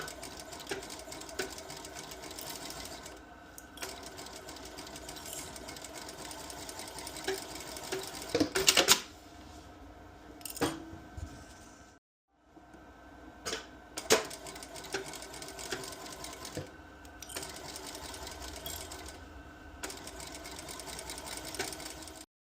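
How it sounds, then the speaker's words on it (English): Sewing machine seaming the edges of bucket hat pieces, shell and liner, running in long steady rapid stitching runs with brief pauses and one clear stop midway, close and prominent with no talking. "to seam these together on both edges"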